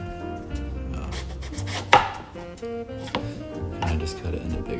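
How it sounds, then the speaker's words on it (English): A knife slices an eggplant into slices for grilling, making a string of crisp, close chopping cuts with one sharp thunk, over a soft musical backing. "is how I cut an eggplant for grilling"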